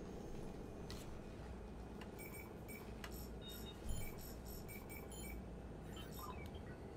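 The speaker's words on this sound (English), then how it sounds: "Beep, beep, beep, beep, beep, beep, beep." Rhythmic electronic beeping from a device in the Mass Effect 3 video game, soft repeated tones over a faint ambient hum, steady and fairly quiet.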